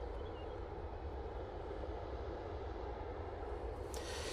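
An easyJet Airbus A320neo arriving from Hamburg gives off a steady, broad jet rumble and roar that holds at an even level throughout. There is no talking.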